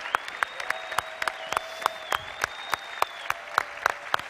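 Audience at an Amway meeting cheering for the Founders Council, with sparse, sharp claps popping out at a steady irregular pace over a sustained whistle-like tone and a low crowd murmur.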